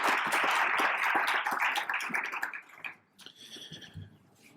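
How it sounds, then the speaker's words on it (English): Applause for the staff at a side event of the World Food Prize 2021: a dense, steady crowd clapping for about three seconds, then thinning into scattered claps and quiet. "Let's give all the folks who made this event work a round of applause"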